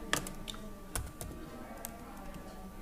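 Scattered keystrokes on a computer keyboard, a few sharp clicks and taps at an irregular pace, close and fairly quiet over a faint steady hum.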